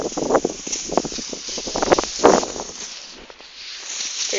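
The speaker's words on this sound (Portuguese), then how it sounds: "O vento atrapalhando" Wind blowing outdoors at a solar balloon launch, a steady broadband rush with gusty swells and rustling near the microphone, with faint voices in the background.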